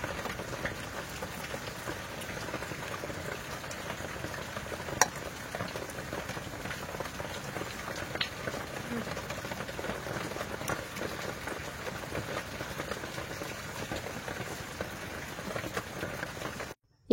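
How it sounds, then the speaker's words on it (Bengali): Heavy rain falls continuously in a dense, even hiss of drops, with a few sharper taps, and the sound stays steady until it cuts off at the end. "কিরকম পরিমাণে বৃষ্টি হচ্ছে তোমরা আওয়াজটা শুনে অলরেডি বুঝতে পারছো।"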